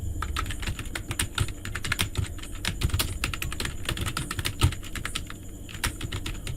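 Rapid, irregular clicking of computer keyboard keys as code is typed for a Google Apps Script project, close and steady with no talking.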